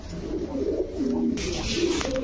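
A fancy pigeon at a breeding farm coos with soft, low, throaty calls, close by and moderately quiet, over faint background noise.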